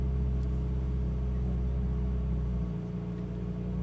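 A Lamborghini's engine rumbles on a race track staging area, a steady low drone that swells slightly toward the end as the car passes close by, with no talk over it.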